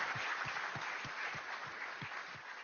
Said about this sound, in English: So I guess you can hear the applause